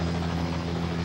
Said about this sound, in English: to refuel the chase helicopters used by the Lancia teams on the San Remo rally